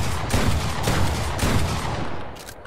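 Shotgun blasts in a video game, several heavy booming shots with short gaps between them, loud and close, fading into a quieter tail.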